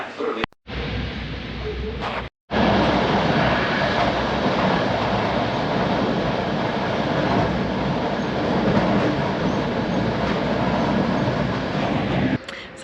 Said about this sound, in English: Il treno Intercity 610 di Trenitalia proveniente.